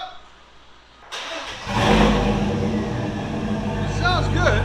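A 2013 Chevy Silverado with a 6.0L V8 and an NTR racing muffler cranks and fires up, then settles into a loud, deep, rumbling idle, with a voice speaking briefly nearby.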